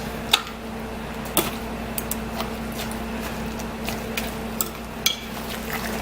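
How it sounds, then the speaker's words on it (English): Chopped strawberries are stirred in a bowl: faint, scattered soft clicks and taps of the utensil come at irregular intervals over a steady low background hum. "Just stir it up, make sure I got all the huge chunks."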